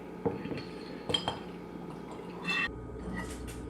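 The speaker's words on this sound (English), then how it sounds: "we're going to turn on our spigot. And start filling" Homebrewed Chinook IPA running from a bottling spigot into a bottle from a one-gallon batch. Soft liquid trickling comes with a few sharp glass and metal clinks, all close and fairly quiet.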